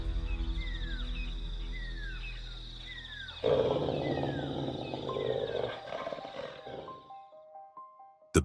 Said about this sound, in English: The bear roared, a deep, forest-shaking sound